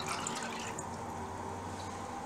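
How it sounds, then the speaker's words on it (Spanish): Water from a reserved litre poured into a cooking pot for boiling chicken breast, a steady close splashing and trickling stream running throughout without a break. "Vamos a utilizar el litro de agua que ya teníamos reservado."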